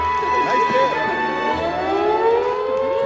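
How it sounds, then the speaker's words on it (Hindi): A wailing siren rises and falls steadily, its tones sliding up and down continuously with no break. "ये क्या है? सायरन की आवाज।"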